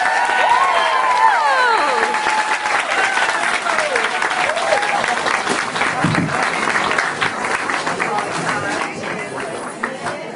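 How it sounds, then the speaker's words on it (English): A large audience at a Long Island Book Revue bookstore event applauds steadily to welcome actress Susan Lucci, with dense clapping and some cheering and crowd murmur sustained throughout, fading slightly near the end. "Ladies and gentlemen, please join me in welcoming Susan Lucci."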